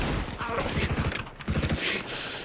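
Rapid bursts of video game gunfire crackle in quick succession, with a voice talking over part of the shooting.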